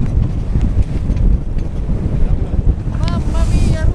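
Wind gusts buffet the microphone and river waves slap against a sailing yacht's hull, loud and continuous, with a brief burst of speech near the end.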